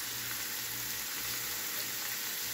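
Garlic, onion, chili and ginger sizzling together in a hot pan with oil, a continuous close, hissing fry with no break.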